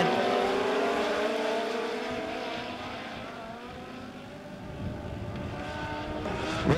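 INEX Missouri Dirt Legend race cars bunched up and battling at Lebanon Midway Speedway, a steady, loud wash of engine roar from the pack with rising and falling pitch as cars pass, no voices.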